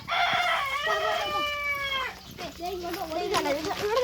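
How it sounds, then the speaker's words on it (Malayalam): Chickens calling nearby, with a long drawn-out crow followed by shorter clucking and squawking cries. "ഇവിടെ കുറേ കോഴിയുണ്ട്."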